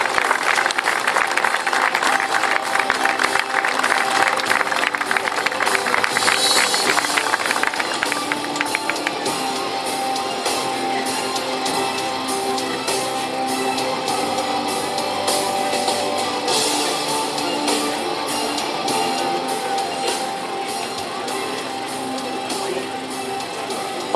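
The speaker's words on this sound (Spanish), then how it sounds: "Un fuerte aplauso para doña Inés Esther Rojo" Sustained applause from a crowd at a community 61st anniversary ceremony honoring a local citizen, loud dense clapping that gradually settles into a softer, thinner patter.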